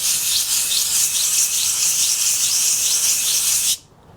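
Nissan 350Z brake pads are sanded in circles to deglaze them, a loud, close, steady rasping scrape that runs continuously and then stops abruptly.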